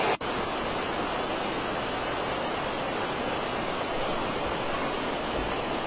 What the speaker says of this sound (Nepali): यहाँको पानी चाहिँ विभिन्न आकार बनेर चाहिँ छहराहरू बनेर निस्किने गर्छ